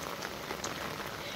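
Steady rain falls on a surface during cool wintry weather, a dense, even hiss of drops without pauses, fairly close and moderately loud throughout.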